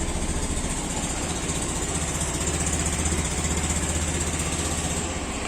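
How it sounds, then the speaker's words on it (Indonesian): A Honda Beat Deluxe scooter engine idles steadily and close by, a constant low rhythmic putter with a buzzy vibration that holds unchanged throughout. "Kalau udah nyala ini berarti bisa dihidupin,"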